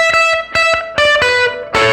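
Electric guitar playing a funk keyboard riff, short punchy chord stabs with a slightly distorted tone, four or five sharp hits in a syncopated rhythm, loud and close with no voices.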